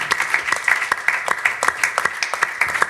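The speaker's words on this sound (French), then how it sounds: "On peut applaudir ça," A church congregation applauding, a dense, uneven patter of many hands clapping in a fairly reverberant room, with brief voice sounds mixed in.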